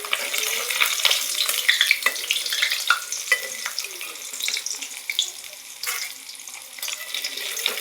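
Rohu fish frying in oil in a pan in a home kitchen gives a dense, continuous crackling sizzle, close and fairly loud, with small spitting pops scattered throughout and no talking.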